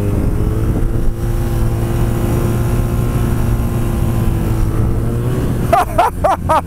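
A BMW R nineT motorcycle rides in second gear, its engine a loud, steady close-up drone with wind rush, and a voice breaks in near the end.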